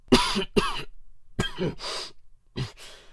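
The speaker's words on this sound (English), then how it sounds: "the raspy tone in his voice making him cough" Several harsh coughs in close succession, grouped in three pairs with short pauses between them, loud and close.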